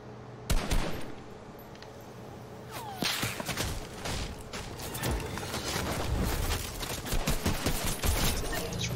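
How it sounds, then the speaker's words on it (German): Gunfire in the video game Fortnite: one sharp shot, then scattered bursts of shots that grow denser toward the end, over a constant low game background with no speech. "Ach, wer ballert denn da wie so ein Dulli, ey?"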